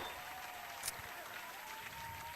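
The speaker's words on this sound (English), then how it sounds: "You gonna hit them with the applause?" Recorded applause effect played on a radio show in a studio, a steady, fairly quiet wash of clapping running evenly through the short stretch with no voices over it.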